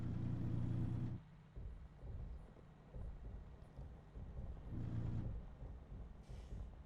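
Truck rolling over a rough road in American Truck Simulator, a New SCS International LT near Astoria, giving a steady low rumble with heavier bursts at the start and again near the end, no talking.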